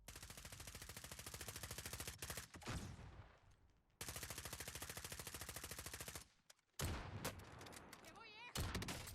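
Rapid automatic gunfire in the shooter game Modern Warfare 2, with long sustained bursts broken by short pauses and a sharp explosion-like burst, loud and close; a voice speaks briefly between bursts.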